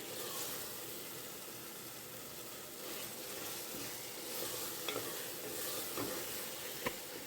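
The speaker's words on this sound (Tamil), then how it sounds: "அடி பிடிக்காத மாதிரி நல்லா கிளறி விட்டுட்டே இருங்க." Tomatoes for mushroom biryani sizzle steadily in a pan while being stirred, a soft continuous frying hiss with occasional light scrapes and clicks of the spoon, fairly quiet and with no talking.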